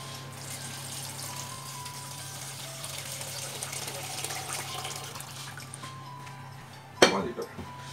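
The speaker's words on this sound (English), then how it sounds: "then you can add the water." Water poured into a cooking pot while making Filipino chicken tinola soup, a steady running splash in a kitchen with a low hum beneath, ending in a brief loud clatter.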